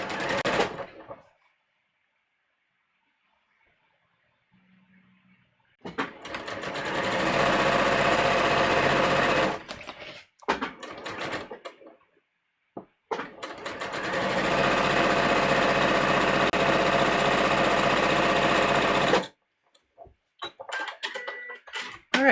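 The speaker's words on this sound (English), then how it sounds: "I am speed sewing, if anyone's wondering." Sewing machine running fast on a muslin bodice during speed sewing, two long sustained bursts of rapid stitching separated by short pauses and brief quieter stretches, close and loud.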